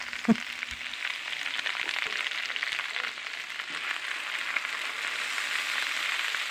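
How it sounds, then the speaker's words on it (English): Steady, close sizzling of a pork roast frying in a pan, a constant crackly hiss with a few small pops, no talking. "Tonight I'm just frying up a pork roast"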